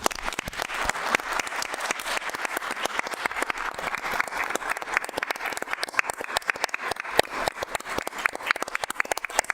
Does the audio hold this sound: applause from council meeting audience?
yes